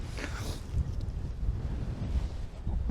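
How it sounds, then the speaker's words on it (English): Strong wind buffets the microphone outdoors in a field during a metal-detecting dig in the UK, a steady low roaring rumble that lasts throughout, with gusts swelling and fading. "It's very, very windy."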